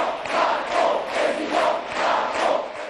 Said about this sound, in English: Before a cheering crowd of supporters,